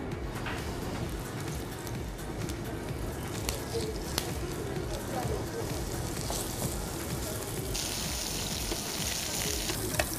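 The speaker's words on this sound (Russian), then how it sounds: "Говяжью вырезку можно жарить ну, разными прожарками." Steady, dense sizzling of beef tenderloin frying in a hot pan, a continuous crackling hiss with occasional sharper pops throughout.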